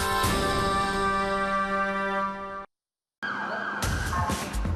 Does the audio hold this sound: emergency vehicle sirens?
yes